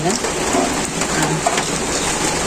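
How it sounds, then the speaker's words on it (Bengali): Steady heavy rain falling on surfaces in a village, a dense continuous hiss with scattered louder drops throughout. "বৃষ্টি নামছে"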